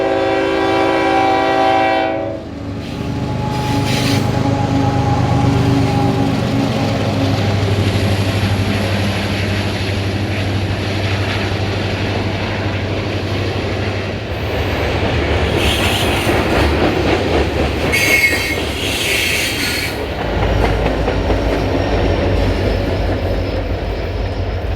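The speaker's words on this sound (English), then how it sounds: "another southbound manifest rolling out of shops," A train horn sounds loudly at the start, then a long Canadian National freight train rumbles steadily past, wheels clattering and squealing rhythmically on the rails.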